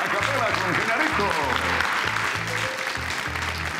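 Applause from a television studio audience for a singing segment, steady and loud throughout, with voices talking over it.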